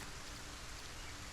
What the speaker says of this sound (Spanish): Aprovechando que está lloviendo.